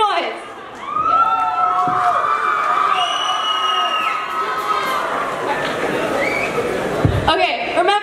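Students at a high school back-to-school rally in a gym cheer, shout and whoop loudly as a crowd, a sustained roar of many voices with children's shrieks, holding steady for several seconds.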